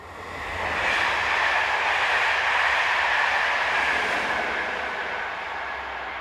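French locomotive 22311 heading north rumbles past with a steady broad roar, swelling within the first second and holding loud before easing slightly, with no voices.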